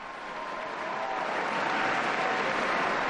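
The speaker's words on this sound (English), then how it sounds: "Big cheer goes up" At a papal general audience at the Vatican, a large crowd cheers and applauds as Pope Francis walks onto the stage, the sound swelling gradually into a steady distant roar.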